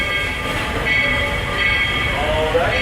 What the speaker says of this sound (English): Please remain seated until the train has come to a full and complete stop.